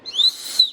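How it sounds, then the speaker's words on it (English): A small whistle built into the rubbery handle of a Gerber Ultimate Survival Knife is blown in two short, shrill, piercing blasts, loud and close, with a brief gap between them. "And it has a little whistle right here."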